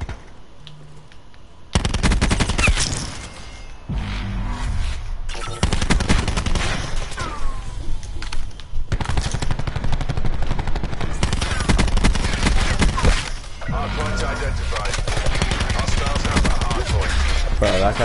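Loud, nearly continuous automatic gunfire from the video game Call of Duty: Black Ops 4, with long rattling bursts broken by brief gaps, close and harsh throughout.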